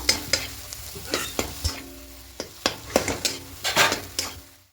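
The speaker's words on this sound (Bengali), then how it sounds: "এবার সব কিছু খুব ভালো করে একটু ডালের সঙ্গে ভালো করে মিশিয়ে নাড়াচাড়া করে দেব" A spatula scrapes and knocks repeatedly around a wok as a thick chana dal filling is stirred, irregular clattering strokes over a soft sizzle, close and clear.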